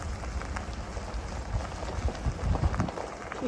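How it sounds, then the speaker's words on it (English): Light drizzle outdoors during a ride: a steady fine patter of raindrops with some thumps and bumps nearby, and no one speaking. "Starting to drizzle a little bit."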